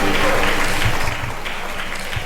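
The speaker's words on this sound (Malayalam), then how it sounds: "ഒരു നല്ല കയ്യടി പ്രത്യേകിച്ച് കൊടുക്കണമെന്ന് ഞാൻ പറയണത്" Audience applause at a 2019 Onam festival stage show, broad and steady clapping filling the room right after a song ends, loud at first and easing slightly while continuing.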